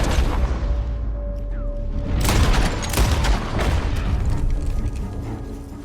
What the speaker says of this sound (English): The gunshots are coming from that...